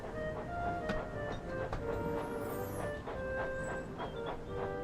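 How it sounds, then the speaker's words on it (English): Steam locomotive Thomas the Tank Engine running steadily with a rhythmic rail clatter and repeated chuffing bursts, mid-distance and moderately loud throughout, with no talking. "You guys hear some chuffing, by the way?"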